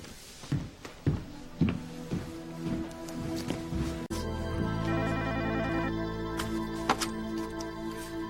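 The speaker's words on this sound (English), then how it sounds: "Excuse me, I'm gonna make a phone call." Telephone ringing tone heard during an outgoing call, preceded by several sharp knocks or footsteps, then a steady repeating electronic ring, fairly close, with no talking.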